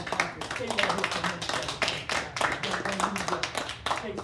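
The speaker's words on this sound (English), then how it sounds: "Let's give him a hand clap." Hand clapping from a small audience at a gathering, uneven and irregular bursts of claps over about four seconds, moderately near, with voices mixed in.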